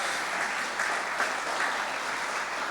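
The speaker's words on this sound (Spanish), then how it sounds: "Dale un aplauso al Señor" Dense, sustained applause from a church congregation during a sermon, an even wash of many hands clapping at a steady level with no voices rising above it.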